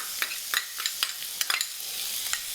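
Shallots sizzling with pancetta in a hot pan, a steady crackling hiss broken by quick scrapes and taps as the pieces are stirred, close up with no talking.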